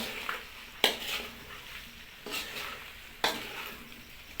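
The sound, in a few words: stirring capsicum, radish and eggplant curry in a pan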